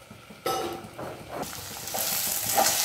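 Potato pieces fry in a pan and are stirred, a constant sizzle that swells louder after a sharp onset, with repeated scraping strokes of a spatula close by.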